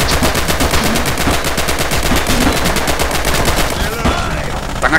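Rapid, steady machine gun fire in the World War II shooter Red Orchestra 2, a loud continuous burst of evenly spaced shots that cuts off near the end, with a player's voice faintly underneath.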